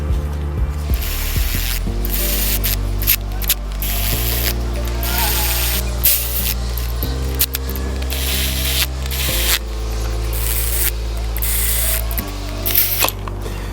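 A hand ratchet tightens bolts on a 302 small block Ford engine being reassembled, giving loud, close, continuous clicking runs in several repeated stretches with brief pauses between them.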